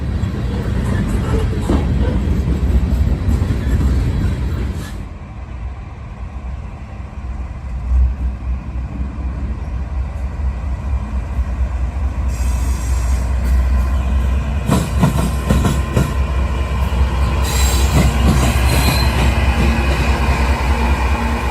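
Norfolk Southern military freight train transporting military equipment rolls past in Shreveport, a long, loud, steady rumble with rail clatter and a few sharper squeals, no talk.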